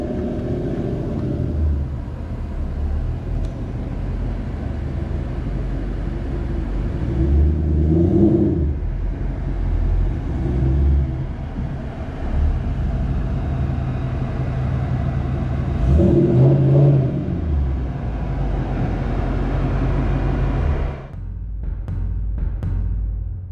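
A GT500 is driven off a lift onto a drive-on rack in a workshop. The engine rumbles low and close, with two short revs, before it cuts off near the end.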